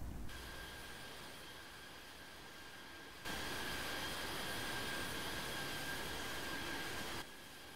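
Steady engine roar of a simulated airliner climbing after takeoff in the flight game Infinite Flight, a constant broadband drone that steps up louder midway and then drops back, with no voices.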